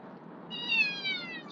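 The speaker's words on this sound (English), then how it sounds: "he still has that really cute kitten meow" A young kitten meows during its first vet appointment, a single drawn-out, high, plaintive cry rising out of a quiet room hum, close and clear.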